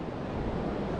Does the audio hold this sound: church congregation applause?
no